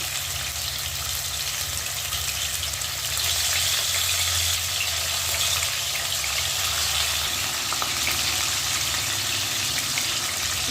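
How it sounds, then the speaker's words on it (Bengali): Rui fish pieces fry in hot oil in a home kitchen pan, giving a steady, loud sizzle and hiss that swells slightly partway through, with small pops and no voices. "মাছগুলো দিয়ে দিচ্ছি, লাল লাল করে ভেজে নেব"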